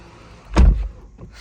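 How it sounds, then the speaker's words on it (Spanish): A Tesla Model 3 Highland car door shuts once with a solid, deep thud heard from inside the cabin, loud and close, followed by a faint settling sound. "de verdad cómo suena la puerta, es que es espectacular"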